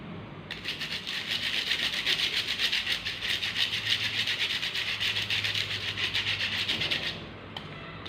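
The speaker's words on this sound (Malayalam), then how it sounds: "അതുകൂടെ നമുക്ക് ഈ അരിപ്പയിലേക്ക് ചേർത്ത് കൊടുക്കാം. നന്നായിട്ടൊന്ന് അരിച്ചെടുക്കാം." Dry ingredients for an eggless chocolate cake are sifted through a sieve, giving a steady close scratchy rubbing and shaking hiss that runs for about seven seconds and then stops.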